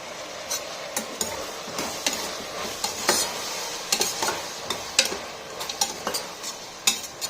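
Potatoes, chunky tomato pieces and other vegetables frying in a pan for aloo capsicum rice, with repeated spatula scrapes and clinks over a light sizzle. A busy, irregular rhythm, close by, with no talking.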